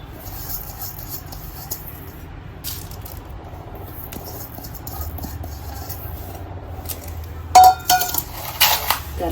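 Roasted chillies, cumin and fenugreek rattle and clink into a stone mortar, with a scattering of small clatters and a louder burst of dry rattling near the end against quiet background.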